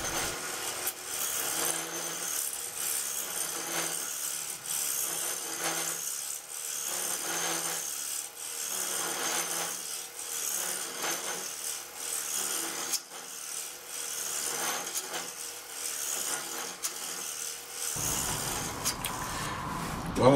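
A wooden dice cup being turned on a lathe as its outside is cut down, giving a steady rasping, scraping drone of tool on spinning wood that stays close and continuous, with no talking.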